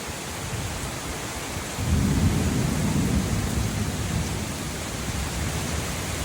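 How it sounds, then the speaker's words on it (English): Heavy rain pours steadily in a thunderstorm as a deep roll of thunder swells in close and rumbles on under the dense hiss of the downpour. "Nothing like a good storm."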